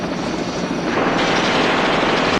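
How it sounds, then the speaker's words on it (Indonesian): A helicopter roars loudly and up close in a 1980s comedy film, its rotor beating in a rapid, steady chop that continues unbroken before cutting off sharply. "Walau helikopter itu belum terbang tinggi"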